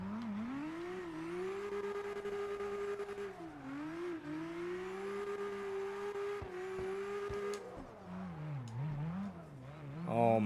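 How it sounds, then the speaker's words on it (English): Nissan Skyline R34 GTT engine in CarX Drift Racing held high against its rev limiter, a loud steady buzzing drone that stutters and bounces, dips briefly, then climbs again with tire squeal near the end. "I love the way this car bounces off the rev limiter."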